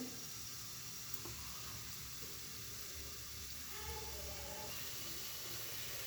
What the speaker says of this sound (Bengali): এখন আমার তেলটা গরম হয়েছে এখন দিয়ে দেবো গুলগুলিগুলা